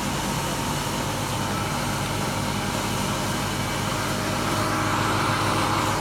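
Engine fitted with a bolt-on reed valve held at full throttle, a steady loud droning roar with no letup and no talking.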